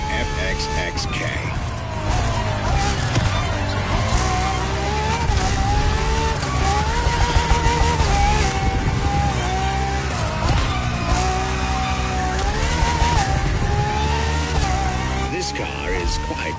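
Ferrari FXX-K supercar racing in The Crew Motorfest, a loud, sustained high-revving engine whine that shifts pitch through gear changes, steady throughout amid busy game sound.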